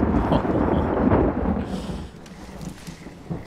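Thunder rumbling after lightning in the video game Hunt: Showdown, a loud low roll that fades over a couple of seconds into quieter ambience.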